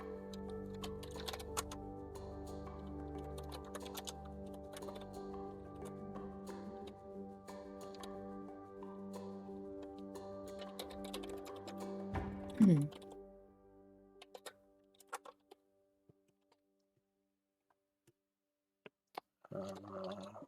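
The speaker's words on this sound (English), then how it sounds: "just typing some stuff." Light, scattered keystrokes on a computer keyboard during a tabletop gaming session, faint and intermittent beneath a steady musical drone that fades out, followed by quiet taps and a brief voice at the end.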